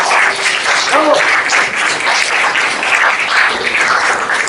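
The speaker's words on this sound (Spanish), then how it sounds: "Un aplauso, por favor." An audience breaks into applause for the afternoon's star at a live event, a dense, steady clapping that runs loud and close for several seconds with a few brief voices mixed in.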